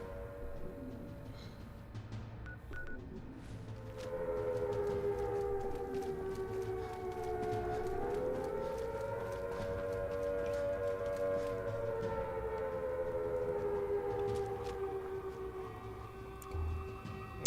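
An outdoor warning siren wails steadily, rising and falling slowly in pitch, heard at a moderate distance over faint background noise, with no talk.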